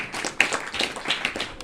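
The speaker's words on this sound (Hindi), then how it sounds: "बहुत बहुत तालियां बजनी चाहिए" A small audience at a spiritual gathering claps briefly, a few scattered hand claps over a couple of seconds, fairly faint and somewhat distant.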